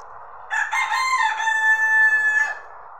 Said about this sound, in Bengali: সকালবেলা এখন মুরগি ডাক দিচ্ছে সবাইকে ঘুম থেকে তোলার জন্য